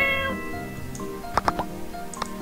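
A cat in the video game My Time at Portia gives a couple of short, close meows amid a soft, tonal game soundtrack, with a faint higher chirp shortly after.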